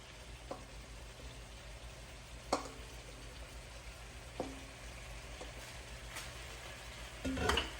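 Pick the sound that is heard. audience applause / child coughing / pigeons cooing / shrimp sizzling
shrimp sizzling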